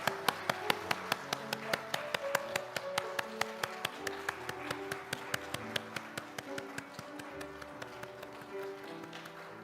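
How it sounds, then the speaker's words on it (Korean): A church congregation claps in a steady, even rhythm during a Sunday service, sharp regular hand claps over a sustained musical backdrop of held tones, moderately distant. "하나님께 영광의 박수 올려드리겠습니다."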